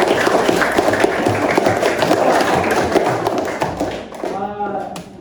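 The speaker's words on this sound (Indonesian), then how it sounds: "kita beri tepuk aplaus untuk Gera" A classroom breaks into dense, sustained applause for a student, many hands clapping close and loud, tapering off at the end as a voice comes in.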